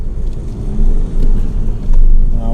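A car pulls away from a green light at night, a steady low engine rumble rising slightly as it accelerates, heard from inside the cabin with no talking.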